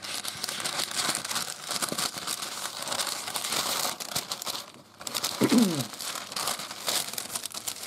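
Parchment paper for a wet palette crinkles and rustles nearby, with bursts of crumpling, a short pause, then more handling and a brief sharper crackle.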